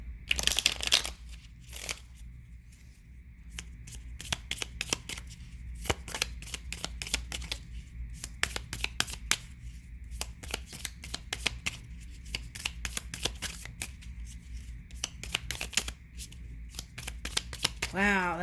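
Tarot cards being shuffled by hand in bursts of rapid riffling and crisp snapping, close and clear, with a voice speaking briefly over parts of it.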